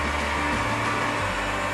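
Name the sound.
Stanley heat gun drying latex paint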